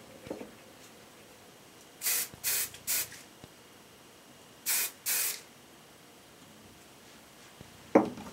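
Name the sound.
hairspray being sprayed on hair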